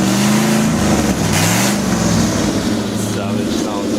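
A V8 engine with an exhaust leak revs up and down in a deep, rumbling, rough tone, close and loud, with someone talking over part of it.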